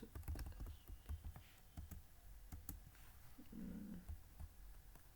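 Code being typed on a computer keyboard: quiet, close key clicks in quick irregular bursts, with a brief low hum partway through.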